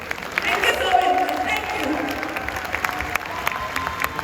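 Audience applause at a Hindi talk event, dense steady clapping from a crowd filling the room, loud and sustained throughout with no clear pauses.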